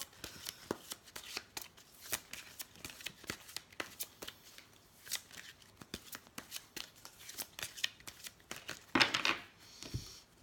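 Tarot cards are shuffled by hand in quick, crisp riffles and slaps, close and fairly quiet, with irregular bursts of card flicks and a sharper rustle near the end.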